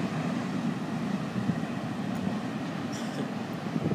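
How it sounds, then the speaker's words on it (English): An FEC train rolls past close by, giving a continuous low rumbling roar with steady wheel noise and a brief higher metallic squeal partway through. "Good looking train, 104. Smoking pretty good right there."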